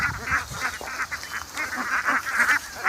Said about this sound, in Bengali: রাখাল লাঠি হাতে হাঁস নিয়ে মাঠে নিয়ে যায়